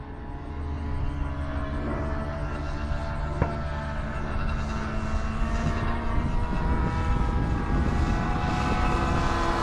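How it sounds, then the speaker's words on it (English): A full-size propeller airplane flies over an air show with a loud, droning engine roar and whine, growing rougher and louder toward the end, and a brief knock in the middle. "I see a full size plane."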